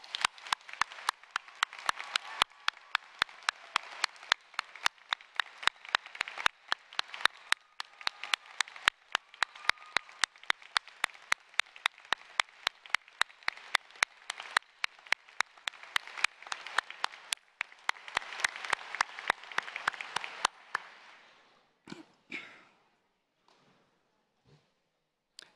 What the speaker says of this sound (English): Please give a resounding round of applause to our teachers